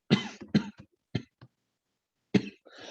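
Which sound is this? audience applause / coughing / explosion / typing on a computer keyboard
coughing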